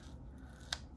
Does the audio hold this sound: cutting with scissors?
yes